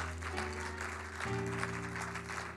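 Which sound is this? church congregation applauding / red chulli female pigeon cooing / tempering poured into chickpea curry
church congregation applauding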